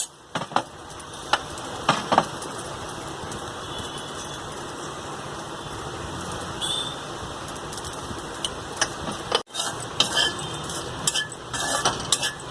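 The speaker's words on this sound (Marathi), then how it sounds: "एक 2 मिनिटं आपण भेंडी फ्राय करून घेऊ।" Okra frying in a pan as it is stirred, a steady soft sizzle with intermittent scraping and clinks of a spatula against the pan throughout.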